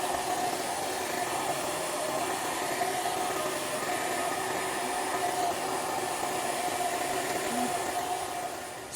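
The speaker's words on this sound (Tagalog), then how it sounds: "gagamit tayo ng blower para mapainit natin mga friend itong gilid dahil may nakadikit dito na glue." A heat blower runs with a steady, even hiss to warm the glued edge of a broken Vivo Y11 phone screen, close and constant throughout, with no speech.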